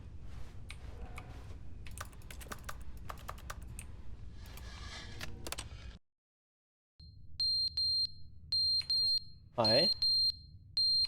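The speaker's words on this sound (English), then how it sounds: "Why are you beeping?" Electronic beeping alarm in the video game The Stanley Parable, a series of sharp regular high beeps after a brief silence, following a stretch of keyboard-like clatter, with a voice speaking briefly over it.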